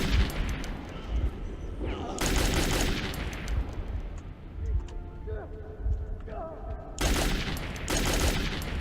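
Two loud bursts of automatic Kalash rifle fire in Metro 2033, each lasting about a second or two, separated by quieter in-game ambience with a voice talking in between.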